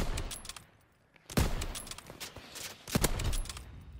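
Gunfire in a WWII shooter video game, a fast burst of sharp shots followed by two loud close reports with gaps between, mixed with clattering game effects and no talk.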